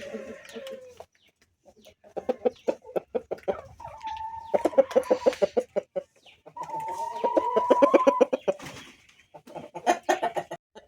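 A rooster, one of several Pettamaru-breed cocks kept on a farm in Nellore, clucks in a series of close, loud bursts with short pauses between, ending in longer drawn-out calls.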